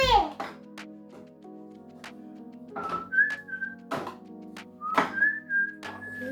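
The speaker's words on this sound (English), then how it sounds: "Do you like to whistle while you work?" A person whistles a short melody while cleaning a kitchen, the whistled tones clear and close between bursts of talk, with a voice and a few thunks of kitchen handling.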